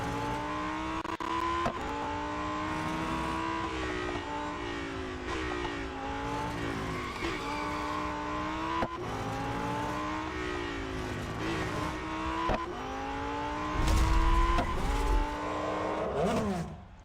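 Lamborghini race car engine in the Real Racing 3 video game, a steady loud revving drone with rising and falling pitch through gear changes and a burst of tire noise near the end, without any talk.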